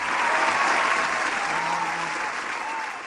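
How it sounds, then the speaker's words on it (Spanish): Studio audience breaking into strong applause, loud dense clapping that starts full and tapers slightly toward the end, with no one speaking. "Fuerte el aplauso, por favor, para Almir."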